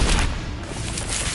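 Blast of the Confringo spell in a Harry Potter video game, a single dense booming explosion that fills the clip with broad rumbling noise, loud and close, with no talk.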